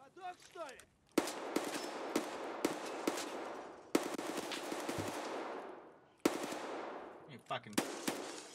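Automatic gunfire in a video game, several sustained bursts of rapid shots in quick succession with brief pauses between, loud and close, with someone talking faintly over it.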